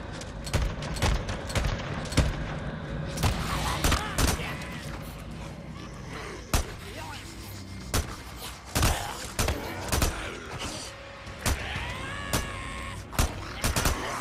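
Repeated gunshots crack out in irregular bursts while shooting at nests in the video game Days Gone, sharp loud reports scattered over a background rumble, with someone talking between shots.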